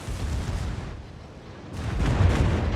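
Bismarck's secondary guns fire in World of Warships, heavy rumbling booms overlapping in a dense barrage that swells louder toward the end.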